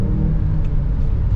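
A 2021 Mazda CX-9 Signature SUV engine accelerates, heard as a steady, loud low rumble of a mid-sized engine with road noise from inside the cabin, continuous throughout.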